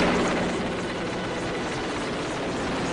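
Military aircraft, including a helicopter, fly overhead during a flypast honouring coronavirus warriors at a police memorial, producing a steady loud rotor and engine roar that fills the whole stretch without a break.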